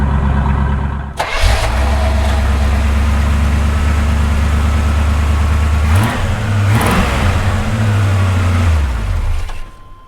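A 1980 Corvette V8 with its exhaust cut off cranks, fires and settles into a loud, rumbling idle close by, with a couple of sharp throttle blips partway through before it shuts off.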